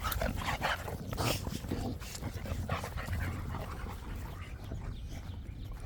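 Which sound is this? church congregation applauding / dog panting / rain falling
dog panting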